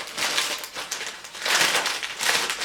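A previously opened plastic packet of Too Good soy and potato chips crinkles and crackles close up in busy, continuous bursts, swelling loudest around the middle and again near the end.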